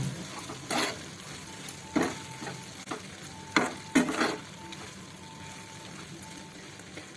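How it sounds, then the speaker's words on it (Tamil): Ground spice powder is stirred into sundal in a pan, with repeated scraping and clacking strokes of a spoon over a low background sizzle, close and fairly quiet. "இதை மிக்சியிலேருந்து இதில் போட்டுடணும். நல்லா மிக்ஸ் பண்ணி விடணும்."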